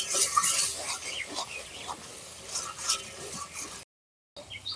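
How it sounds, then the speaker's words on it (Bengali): Turmeric, cumin, coriander and chilli powder being stirred and fried in oil for ghugni, a soft sizzle with scraping spoon strokes against the pan, briefly cut to silence near the end. "দিয়ে দিচ্ছি হলুদ, জিরে ধনে পাউডার, লঙ্কা গুঁড়ো, নেড়ে চেড়ে ভালোভাবে কষিয়ে নেব"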